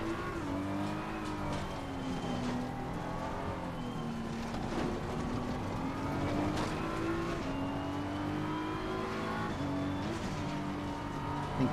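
Race cars in Gran Turismo 7 drone steadily through a lobby race, engine pitch rising and falling with gear changes and a passing car, moderately loud and continuous, no voice.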